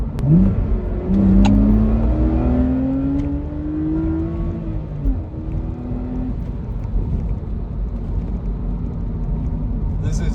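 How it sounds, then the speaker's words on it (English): A BMW E85 Z4 with an N52 engine and sound generator mod revs up sharply on a downshift, the engine note climbing then falling away, close and loud inside the car with wind rush beneath. "Like if when I downshift, I bring it up high, it sounds kind of gnarly"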